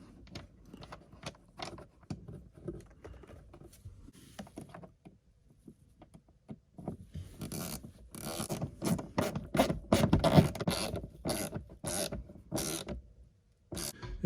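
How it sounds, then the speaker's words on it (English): Screws driven by hand into a plastic 67 Designs phone mount during an install, the back screws first. Sparse faint clicks and rubbing give way to louder, denser ratcheting and scraping bursts in the second half, close up, with no talk. "Now we're going to work on getting our screws in there."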